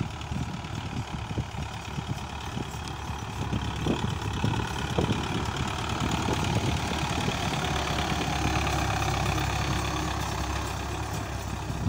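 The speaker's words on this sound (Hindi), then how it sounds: "तो ये ट्रैक्टर वापस वहाँ से मट्टी लेके आ रहा है और यहाँ पे फिर डालेगा।" A tractor hauling soil for land levelling rumbles with a steady, fairly loud, close diesel engine that drones continuously with slight variations under light clatter.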